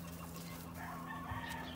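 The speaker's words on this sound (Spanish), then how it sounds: "Ya tenemos una gallinita echada." A brooding hen sitting on her nest gives soft, faint clucks, a few short low calls over a steady background hum.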